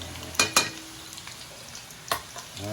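Banana slices frying in hot oil at a family party, a steady low sizzle with a few sharp clacks of a utensil stirring and knocking the pan, close by and without talk.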